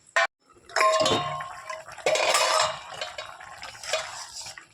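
A lid set onto a pan of simmering chili fish curry: a sharp metallic clank, then clattering and sloshing bursts of liquid and metal, loud and close.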